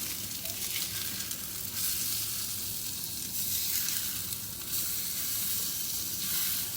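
Salmon and tuna patties, bound with egg, fry and brown in a pan, giving a steady, loud, close sizzle that swells and eases in waves, with no talking.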